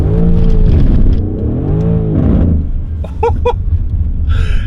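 A Mercedes AMG car accelerates hard and loud in snowy conditions, then lets out a brief burst of sharp, crackling exhaust pops near the end.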